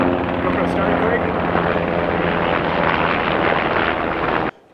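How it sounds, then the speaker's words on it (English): A firefighting helicopter passes overhead in a forest, a loud continuous rotor roar with wind buffeting that cuts off abruptly at the end. "that's a firefighting helicopter"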